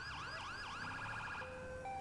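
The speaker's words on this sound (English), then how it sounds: "we can actually use our new siren for that as well, which is cool" A police car siren in GTA 5 wails in rapid rising-and-falling sweeps, then shifts to steady held tones, heard alone.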